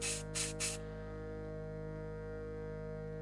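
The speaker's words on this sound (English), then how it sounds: "take your favorite hairspray and simply spray it in the air like this" Three quick hissing bursts of hairspray sprayed into the air, close up, then a quiet steady hum.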